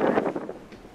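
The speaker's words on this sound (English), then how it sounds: "That is quite a gust of wind." A gust of wind buffets the microphone outdoors in Brooklyn Heights near freshly trimmed trees, a loud, brief, rushing burst that fades within a second.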